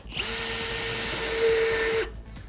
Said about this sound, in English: be driven with a hand tool like this cordless drill or used in a machining center